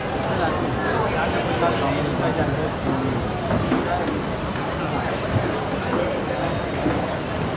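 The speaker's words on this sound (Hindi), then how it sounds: "बारिश इतनी ज़्यादा गिर रही है" Heavy rain pours steadily outside in Mumbai, a dense and loud hiss that holds constant throughout with no pauses.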